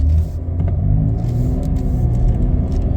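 A 2020 Chevrolet Blazer 2LT pulls away on a test drive, its engine giving a close, steady rumble with a smooth rising whir as it accelerates, with no talking.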